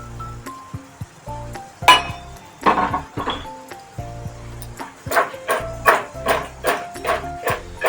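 Vegetables stirred in a pan with mustard oil for a dish made without onion or garlic: irregular metallic clinks and scrapes of a spoon against the pan, close and fairly loud, settling into a steadier rhythm toward the end.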